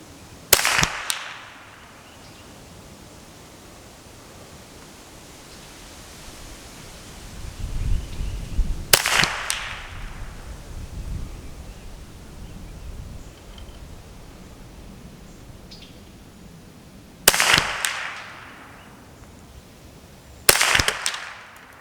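Shots from a Kidd 1022 .22 rimfire rifle at a range target 100 yards off: four sharp, loud cracks spaced several seconds apart, with quiet outdoor ambience and a low rumble in between.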